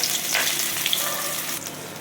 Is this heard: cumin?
yes